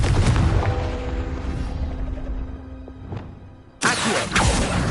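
A Confringo blasting spell in Hogwarts Legacy goes off with a loud opening boom that fades into a low rumble, followed by another sharp, close blast near the end.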